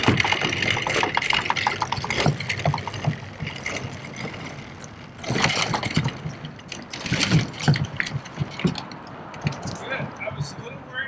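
RC airplane fitted with Boonedox landing gear on a Bonafide RVR 119, its wheels rolling and clattering over a potholed parking lot in an irregular rumble with sharp jolts, heard close alongside motor noise.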